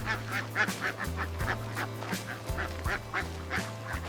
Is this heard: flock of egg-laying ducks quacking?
yes